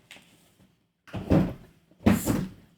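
A drawer is opened and shut, with a faint knock and then two close, solid sliding thuds about a second apart.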